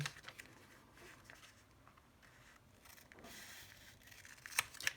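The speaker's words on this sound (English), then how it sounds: "Snip that right across the bottom." Scissors snip across the bottom of a sheet of paper in a quiet, close run of cuts, with light paper rustling and a few sharper clicks near the end.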